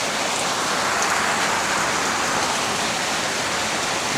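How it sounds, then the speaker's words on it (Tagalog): Heavy rain pours steadily, a dense, constant hiss of water on surfaces with no pauses. "Biniyaan tayo ng tubig sa langit."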